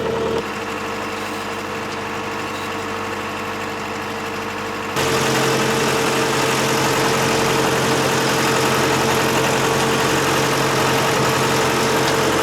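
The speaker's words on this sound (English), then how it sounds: "We gave up. Put the motor on." An outboard motor on a sailboat, running steadily at low speed in autumn on the water; a constant droning hum that grows louder and fuller partway through, with no talk.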